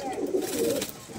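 A male Madrasi pigeon in a loft gives a brief low coo, close by, with a person's voice faintly mixed in.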